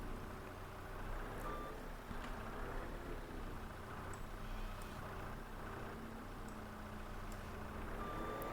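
A skid steer in the Farming Simulator video game drones with a steady low engine hum, while faint, sparse reversing beeps sound intermittently over it. No one speaks.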